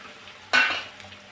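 Chopped coriander and spices hit hot oil in a pan while cooking a fenugreek tomato chutney, giving a sudden loud sizzle burst that quickly fades into a softer, steady hiss.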